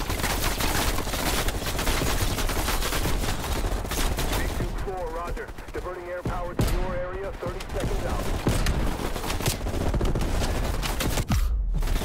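Dense, continuous gunfire fills a Call of Duty Cold War campaign battle, sustained volleys with sharp bursts and heavy bass thumps, while a voice talks intermittently over the din midway through.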